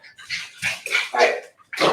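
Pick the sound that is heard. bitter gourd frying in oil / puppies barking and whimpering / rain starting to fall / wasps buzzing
puppies barking and whimpering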